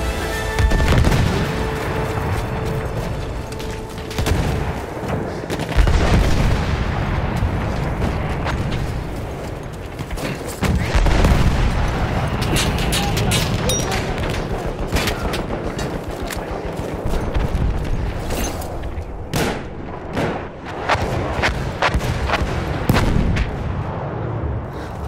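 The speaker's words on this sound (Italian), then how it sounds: "Cannoni nemici, laggiù!" Enemy cannon artillery fire in the World War I shooter Battlefield 1, with heavy booms and rapid volleys of gunfire rolling continuously, loud and near, amid a chaotic battlefield din.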